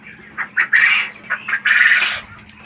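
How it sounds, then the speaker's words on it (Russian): Golden phoenix chickens and quails call in a poultry pen: a few short bursts of calling, then a longer loud call, close by, with no talk. "вот красивая птичка, феникс золотистый"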